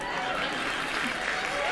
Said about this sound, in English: They start to clap because Hanna said so